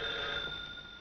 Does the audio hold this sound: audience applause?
no